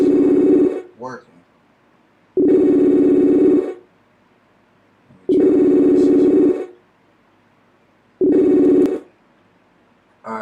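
A telephone call tone rings in four long, loud, evenly spaced bursts with silent gaps between them, on its own with no talk over it.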